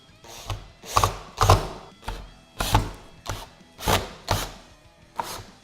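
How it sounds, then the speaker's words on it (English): Sheet metal screws being driven to secure a latch assembly into a motorcycle saddlebag lid, heard as a close run of about ten sharp, evenly spaced mechanical clicks and ratcheting bursts with no talking. "insert the latch assembly into the saddlebag lid and secure it with 4 sheet metal screws"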